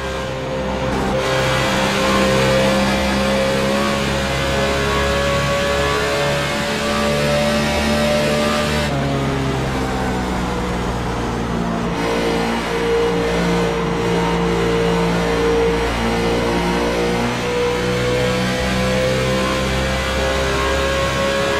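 In-car sound of a race car lapping Darlington Raceway in an All Pro series all-star race: loud, close engine drone with pitch rising and dropping through gear changes and corners, continuous, no talk.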